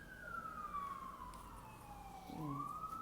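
A siren wails in the distance, its pitch sliding slowly down and then sweeping back up, with traffic rumbling faintly underneath.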